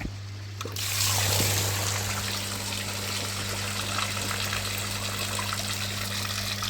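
Water gushes out as a koi pond pump purges, a sudden surge that settles into a steady rushing flow, moderately loud and close, with no talking.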